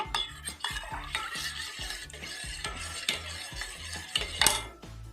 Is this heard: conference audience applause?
no